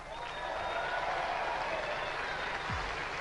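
A studio audience at a robot combat competition claps in steady, dense applause throughout, fairly loud and unbroken, with a brief low thump near the end.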